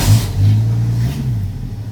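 A 1979 Ford F-100 pickup engine catches and revs, a loud, close low rumble that swells briefly and then eases back toward a rough idle.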